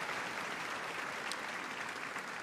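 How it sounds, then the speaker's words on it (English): Applause from the audience at the Scruffts final at Crufts 2023, a continuous and fairly distant patter of clapping from a large crowd, even and unbroken. "Absolutely worthy of a round of applause"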